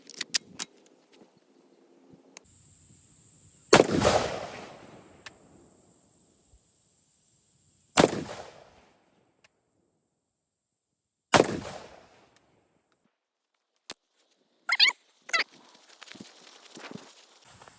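Three loud, separate gunshots from a rifle fitted with a CVLIFE red dot sight on a QD mount, each ringing out alone a few seconds apart amid quiet, followed by faint clicks and handling noises.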